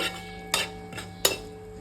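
A few scraping, clinking strokes of a spoon stirring spices with hing in a pan, three distinct bursts about a second apart, close and clear, no talking.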